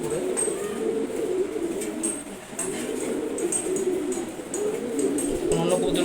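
Male pigeons coo continuously in a loft, a dense low burbling chorus close by with occasional wing and movement noises.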